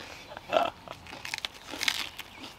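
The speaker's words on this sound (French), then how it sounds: "Ça croustille. Ça craque même." Someone bites into and chews a crisp-crusted ham and raw vegetable sandwich, with crunchy, crackling bites in quick irregular bursts close to the mic and no talking.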